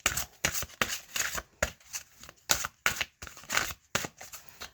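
Tarot cards shuffled and handled during a love reading, a run of quick riffling bursts with short pauses between them, close and clear, with no talking.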